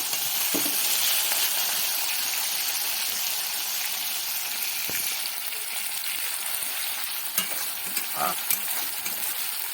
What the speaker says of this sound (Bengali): আবার 1 থেকে 2 মিনিট ভালো করে নাড়াচাড়া করে নিতে হবে।